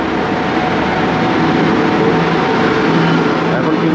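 A Hatia to Howrah train passing through Mecheda railway station, a loud, continuous broadband rumble and rush of the moving train close by, steady throughout without pause.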